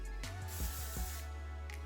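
Hairspray misted onto the roots of natural hair in short hissing bursts, with a few quick sprays close to the mic and one more at the end.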